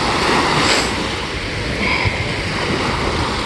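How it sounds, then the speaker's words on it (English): Ocean waves roll and wash onto the shore at Ocean View Beach in Norfolk, Virginia, a continuous broadband surf roar with a swell near the start, heard alone without speech. "Join the waves here."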